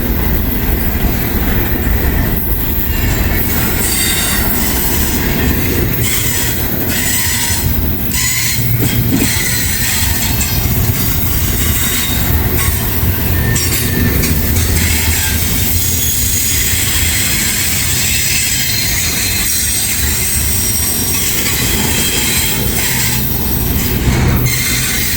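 A massive freight train climbs a steep grade, its wheels squealing loudly and steadily over rumbling cars and rhythmic clickety-clack of rail joints, close by and continuous for the whole stretch.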